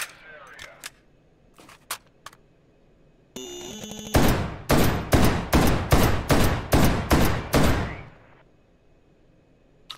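Gunfire in the VR shooter H3VR: a few scattered shots and a mechanical clatter, then a loud, fast burst of about a dozen heavy shots close up, ringing out before fading.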